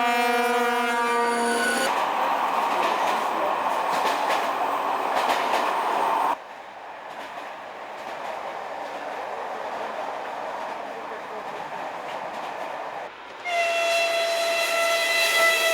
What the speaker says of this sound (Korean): 이 엔진이 이끄는 동력으로 기차는 시리아 북서 지방 도시 카미실리로 떠납니다.